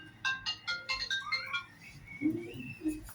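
A mobile phone ringtone chirps a melodic sequence of bright tones during a classroom lecture, fairly faint, followed by low murmuring voices near the end.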